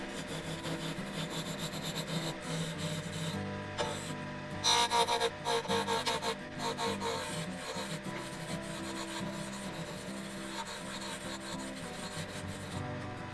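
A fingernail bowl gouge cuts wood on a lathe while making a leather burnishing tool, giving a continuous rough scraping hum with a louder, harsher burst midway, close and steady without speech.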